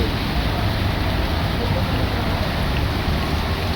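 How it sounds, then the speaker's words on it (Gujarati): Constant heavy downpour in Bandra, Mumbai, a thick unbroken hiss with low rumble underneath, no voices. "બાંદ્રા મુંબઈમાં વરસાદ ફૂલ ચાલુ છે।"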